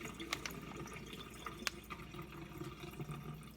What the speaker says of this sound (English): I'll just go ahead and run the water off of the liquid